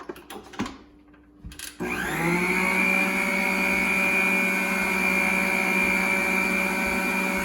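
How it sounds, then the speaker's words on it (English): An electric mixer beating cake pop batter: a few clunks as it is handled, then the motor starts up and runs in a loud, steady whir close by until the end. "then you can put this back on and start mixing again"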